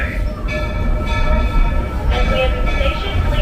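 Walt Disney World Railroad train at Magic Kingdom rolls steadily into Main Street Station with a continuous low rumble and wheel noise, loud and close, running throughout.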